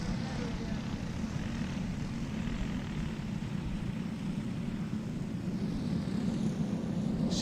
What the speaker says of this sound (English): Hess, Goff, Landers, Court, Vogt, and Duffy, the last carts on the Speedway.